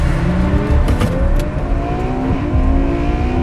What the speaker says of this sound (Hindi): अचानक कबीर ने गाड़ी की रफ्तार पहले से 2 गुना तेज कर दी।